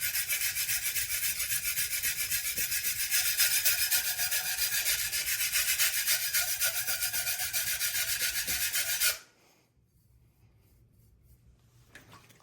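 A chef's knife is rubbed steadily across a whetstone in a dense, continuous rasping scrape, close and fairly loud for about nine seconds, then it stops abruptly and only faint room tone remains.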